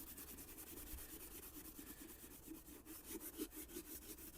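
SOS steel wool pad scrubbing surface rust off pitted chrome, a faint, rapid back-and-forth rubbing scratch repeating steadily at close range.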